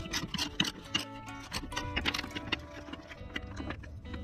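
A wrench unscrews a bolt on the suspension of an Alfa Romeo 159, making rapid close ratcheting clicks and metallic taps in uneven bursts. The sound is faint, and brief scraping and knocking come through between the clicks.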